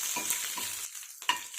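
Green chillies fry in hot oil with a steady crackling sizzle, broken by a few short scrapes of stirring; close and moderately loud, with no talking.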